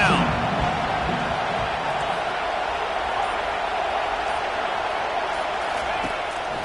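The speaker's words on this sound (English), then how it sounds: "Decibels rising as the crowd gets behind this defense on third down." Dense roar of a college football stadium crowd rallying behind the Wolfpack defense on third down, a loud sustained wash of cheering and noise with a commentator talking over it.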